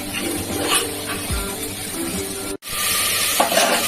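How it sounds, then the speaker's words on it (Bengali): Potatoes and yardlong beans frying in a pan with salt and turmeric, giving a steady, close hissing sizzle with brief stirring scrapes and one short break. "আলু বরবটি ভাজা, লবণ হলুদ দিয়ে দিয়েছি। নুন আর হলুদ ভাজা, ব্রাউন করে ভাজিয়ে"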